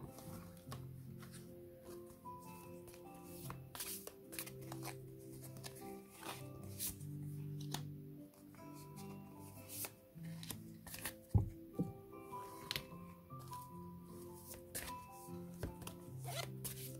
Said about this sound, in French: je vais poser une carte ici, une carte ici